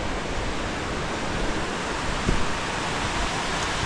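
Rainbow Falls at Jones Gap gives off a constant broadband rush of falling water, steady and fairly full throughout, with no voices over it.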